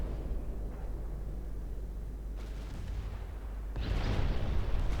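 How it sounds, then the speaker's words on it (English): Naval artillery fire in the warship game Ultimate Admiral Dreadnoughts: a muffled boom midway, then a louder, sharper salvo near the end over a low continuous rumble. "Okay, open fire."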